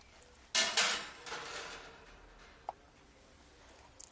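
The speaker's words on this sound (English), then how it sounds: "Remove the oven burner baffle by removing the wing nut at the front of the baffle and then picking the baffle up off the oven burner." A metal oven burner baffle on a gas range is lifted out with a sharp clank and a short rattle of sheet metal, then a single tick and faint scrapes in a quiet room.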